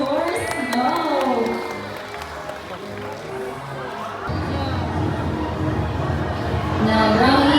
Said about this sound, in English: So how about a round of applause for Snow?